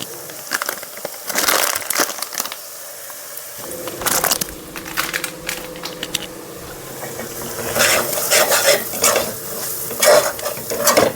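Mutton curry seasoned with a spoonful of mutton masala powder is stirred in a pan, giving steady scraping and thick, wet churning over a low sizzle, with the strokes growing louder toward the end.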